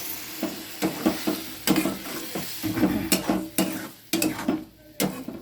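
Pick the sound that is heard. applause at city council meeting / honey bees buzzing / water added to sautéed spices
water added to sautéed spices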